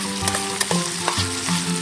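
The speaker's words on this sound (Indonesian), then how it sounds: "Setelah minyak panas, langsung saja bumbunya dituang di wajan." Ground spices hit hot oil in a wok at a camping cookout and sizzle loudly and steadily, with a few clanks as they are stirred.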